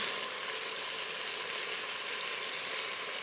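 A cheap cut of beef browning in a pan gives a loud, dense, unbroken sizzle right up close, with no voices over it.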